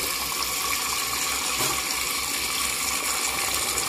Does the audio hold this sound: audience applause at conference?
no